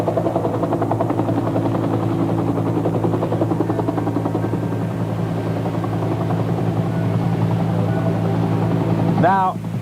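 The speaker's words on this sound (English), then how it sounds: "just before the helicopter touched down" A helicopter lands near the Carmel mission, its loud, steady rotor thump and turbine whine dominating throughout, with voices in the background and a brief rising whine just before the end.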